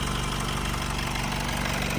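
A Honda CR-V engine idles steadily with a dense, even mechanical hum and faint rhythmic ticking, the air-conditioning compressor adding a constant whirr.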